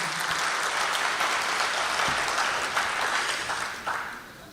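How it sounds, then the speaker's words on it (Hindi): An audience at a mushaira poetry gathering in Ichalkaranji gives sustained applause, a dense, even roar of many clapping hands that tapers slightly toward the end, with a faint voice underneath. "मैं चाहता हूँ पुरजोर तालियों से उनका इस्तकबाल"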